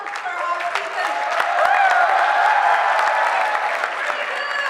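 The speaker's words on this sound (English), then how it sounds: "Come on, round of applause for our speakers." Applause for the speakers at a senior regional debate, steady clapping from the audience that holds for the whole stretch, with voices and cheering mixed into it.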